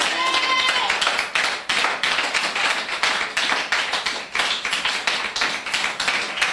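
Church congregation clapping steadily in rhythm, a dense run of hand claps throughout, with some voices and background sounds mixed in.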